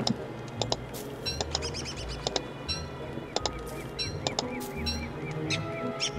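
A bird in the survival video game Don't Starve gives short, sharp chirps and tweets in scattered bursts over a busy game soundscape with low background ambience.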